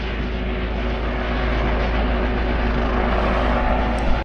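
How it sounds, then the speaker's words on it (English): A helicopter circles overhead at night near a wild campsite. A steady, fairly loud rotor and engine drone carries evenly throughout and ends in a brief knock at the close. "The chopper circles."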